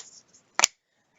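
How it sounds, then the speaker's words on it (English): Board game cards shuffled once in a brief, crisp riffle burst, close and fairly loud, with near silence before and after. "So I shuffle these up, and then I grab a random one."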